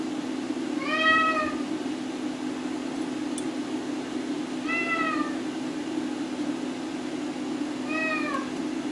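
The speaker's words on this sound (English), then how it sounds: "cat's probably driving you guys nuts too. He doesn't quit once he starts." A male cat meows repeatedly and insistently, three clear rising-falling cries spaced a few seconds apart, over a steady hum in a workshop where a motor is being built.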